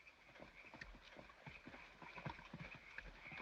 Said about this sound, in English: Dos hombres a caballo.